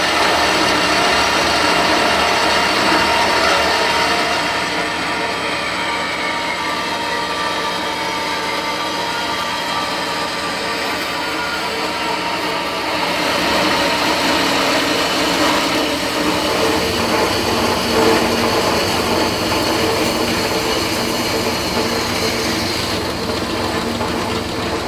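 A horizontal bandsaw cuts through metal with a continuous, fairly loud motor whine and steady grinding rasp that holds for the whole stretch, close by and without talk.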